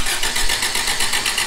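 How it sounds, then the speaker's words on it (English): A cammed Toyota 20R engine fitted in a Suzuki Samurai cranks over on the starter, giving a fast, even, rhythmic churning. It is loud, close and steady, with no voices. "So if I hold it like this, she'll crank over."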